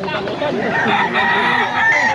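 Roosters crow and chickens cluck continuously close by at a pet market selling gamefowl, with voices talking underneath the noisy flock.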